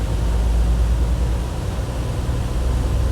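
Turbocharged engines of a 2024 Sunseeker Predator 75 yacht boosting, a loud, steady broadband rushing roar with deep low rumble and no distinct breaks, heard from on board under way.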